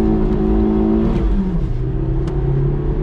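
A 1992 Citroen ZX 1.4i 75 hp petrol engine revs hard at full throttle from inside the car, a loud, steady drone that climbs in pitch, dips briefly around a gear change, then pulls upward again.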